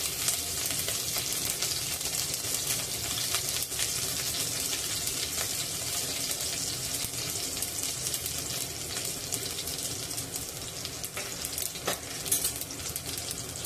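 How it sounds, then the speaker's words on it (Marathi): Chopped green chillies fry in a hot tempering in a pan for a Marathi-style spicy pea dish made without onion or garlic, giving a steady, close, continuous sizzle throughout with occasional stirring and no talk. "आता त्यामध्ये 2 मिरच्या बारीक चिरून घालत आहे।"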